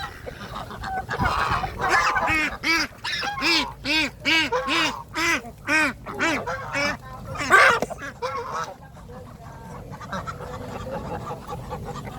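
Loud, rhythmic quacking and honking from a group of ducks, close by, in a steady series of calls that thins out toward the end.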